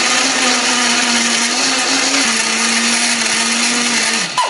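A kitchen blender grinds garlic, candlenut, pepper, nutmeg and a splash of water into spice paste, a loud steady motor whir that holds for several seconds, then dips and stops near the end with no talking.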